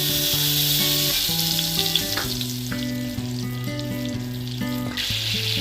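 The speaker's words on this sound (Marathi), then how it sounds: "कढईमध्ये मी थोडं बटर टाकून घेते आणि लगेचच एक चमचा तेल टाकून घेते" Steady, loud sizzling of butter and oil in a hot kadhai for soya kheema, hissing continuously over background music.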